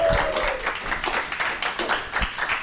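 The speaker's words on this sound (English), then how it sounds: "So let's give a big applause to Rosa Yupal" Brief applause from an audience at a tech talk welcoming speaker Rosa Yupal, a short burst of scattered claps that rises and falls unevenly, not a full roar.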